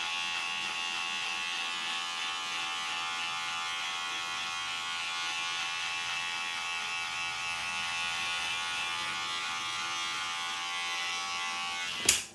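Electric hair clippers tidy the neckline during a beard fade, giving a steady, even motor buzz that runs close and unbroken before a brief knock at the very end.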